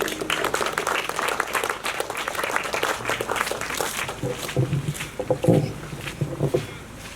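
An audience at the opening of a Baha'i star garden at the Great Stupa in Bendigo applauds to welcome Neva to the front, a steady crowd clapping that thins out toward the end as murmuring voices and shuffling take over.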